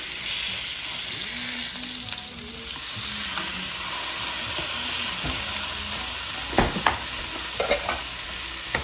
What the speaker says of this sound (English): So you're just going to want to sear it on each side.